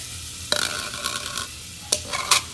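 Minced garlic, two tablespoons, hits a pan of butter over moderate heat, giving a brief crackling sizzle with a few sharp utensil clicks and scrapes, fairly close and without talk.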